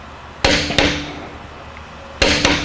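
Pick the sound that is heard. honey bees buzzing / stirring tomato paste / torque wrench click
torque wrench click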